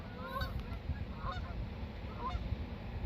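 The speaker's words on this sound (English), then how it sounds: "More geese flying over." Geese honk while flying overhead at a boat ramp, a scattered series of faint, distant honks spread across a quiet outdoor background with no speech.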